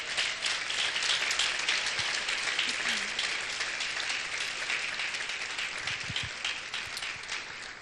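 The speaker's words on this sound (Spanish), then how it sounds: "Bríndele un fuerte aplauso al Señor por eso." Loud, sustained applause from a large church congregation, dense clapping that holds steady for several seconds before easing slightly.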